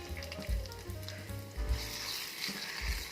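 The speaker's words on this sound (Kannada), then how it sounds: "ಈಗ ಒಗ್ಗರಣೆ ಕೊಡ್ತಾ ಇದ್ದೀನಿ" Urad dal tempering crackles and sizzles in hot oil in a home kitchen, a steady close frying hiss with bursts of popping, no talk.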